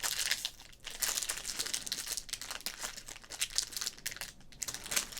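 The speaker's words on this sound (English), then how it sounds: "Thought I lost my ability to open up card packs" Foil pack of golf trading cards torn and crinkled open up close, a steady bright crackling and crumpling with brief pauses, no talking.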